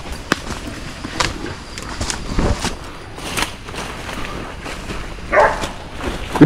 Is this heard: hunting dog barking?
yes